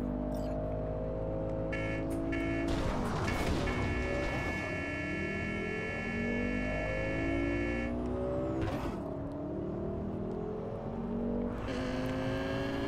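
Car engine in Cyberpunk 2077 heard from outside the vehicle, loud and continuous, revving up and down through several gear shifts with rising and falling pitch and bursts of acceleration, no talking.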